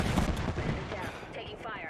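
Rapid bursts of video game gunfire from knuckle cluster weapons, a dense run of overlapping shots and blasts, loud at the start and thinning slightly toward the end.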